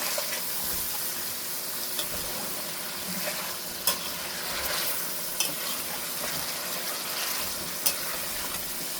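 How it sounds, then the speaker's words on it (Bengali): Ridge gourd goes into a spice masala in a pan just used to fry hilsa fish, sizzling in a continuous close crackle with a few sharp scraping knocks from stirring, and no speech. "এখন এই মশলাতে আমি ঝিঙাগুলো দিয়ে দিব।"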